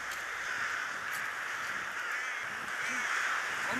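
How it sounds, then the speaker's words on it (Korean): A large flock of rooks caws continuously as the birds settle into a bamboo grove roost in Ulsan. The overlapping calls form a dense, steady chorus over a broad wash of background noise. "이제 떼까마귀가 잠자리인 대숲으로 들어가기 시작하는데요"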